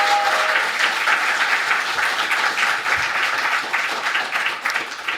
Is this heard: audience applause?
yes